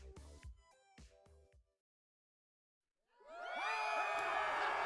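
A video game crowd breaks into loud, sustained cheering and whooping after a short silence, following a few brief game sound effects.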